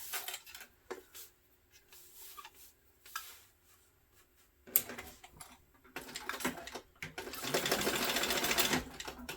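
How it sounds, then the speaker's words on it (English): Sewing machine stitching down the side of a backpack, rapid mechanical chattering in bursts with pauses, growing louder and more sustained toward the end. "So now I'll sew down the other side."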